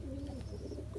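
Teddy breed pigeons coo in a low, steady murmur, a continuous soft rumble close by with no talking.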